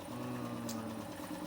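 An electric-motor-driven air compressor runs steadily, a continuous low mechanical hum with a faint rattle, close and constant with no talking.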